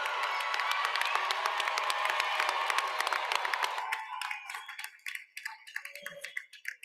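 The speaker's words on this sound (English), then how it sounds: "Please give these students a round of applause" Graduating students receive a round of applause at a high school graduation ceremony, loud clapping mixed with crowd cheering and whoops, sustained for several seconds then thinning into scattered claps and fading.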